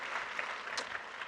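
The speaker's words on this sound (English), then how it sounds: "please give a round of applause to Sarah Tilley from ServiceNow" Brief, fairly faint clapping from a conference audience after a talk, a short even patter of hands with no voices over it.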